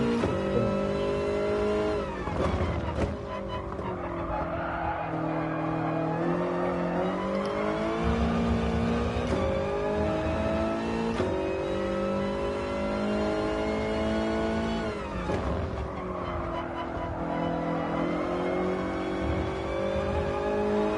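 A race car in a driving game accelerating hard out of a corner, its engine note climbing loud and close as it changes gear, with brief dips and a continuous high whine throughout.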